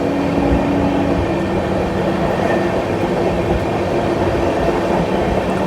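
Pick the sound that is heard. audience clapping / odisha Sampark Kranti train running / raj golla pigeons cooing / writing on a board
odisha Sampark Kranti train running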